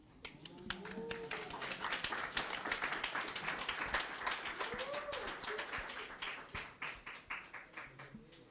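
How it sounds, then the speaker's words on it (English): A lecture audience at a St. Patrick's Day event applauds the performers Merle and Anne-Marie: many hands clap densely and steadily at moderate volume, then thin out toward the end, with brief vocal sounds mixed in. "Please give them another round of applause."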